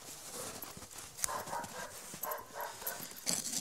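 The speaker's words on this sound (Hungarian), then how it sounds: "valaki ugat" Outdoors at night during de-icing, a dog barks in the distance. The short barks are scattered among hoof-like clopping and other rustling activity, and nobody speaks in the foreground.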